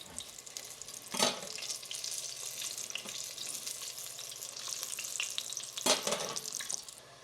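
Tofu frying in a hot pan, a steady soft sizzle with a couple of sharp clatters of a utensil against the pan, fairly quiet and with no talking.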